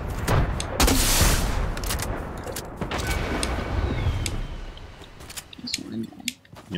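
Gunfire in the video game Fortnite, several sharp shots and bursts scattered through the clip among game noise, with a person talking over it.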